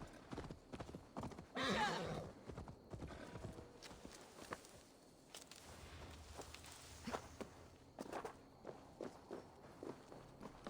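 Horse hooves clip-clop in the video game Assassin's Creed Valhalla, a steady walking rhythm close by with a brief louder burst early on, then continuing evenly with no talk.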